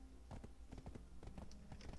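A horse's hooves clip-clopping in a steady trotting rhythm inside the video game Black Desert, quiet and close with no talk.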